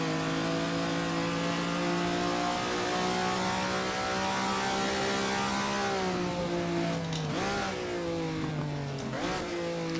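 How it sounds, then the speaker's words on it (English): Ferrari 250 GTO from 1962 in the Assetto Corsa racing game, its engine droning loudly at high revs with steady gear whine, then two quick dips in pitch as it lifts off the throttle and revs back up. "I hear a little backfire."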